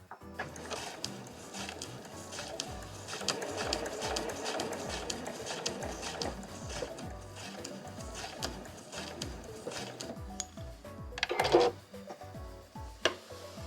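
A home sewing machine stitches a quilted tote bag, giving a steady mechanical whir with rhythmic needle clatter, a brief louder rattle near the end, and no talking over it.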